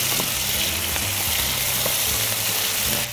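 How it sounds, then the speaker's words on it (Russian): Lamb with fried garlic and coriander for lagman sizzles loudly and steadily in a hot pan, with a few faint stirring scrapes beneath the roar of the frying, close and unbroken. "Также перемешиваем."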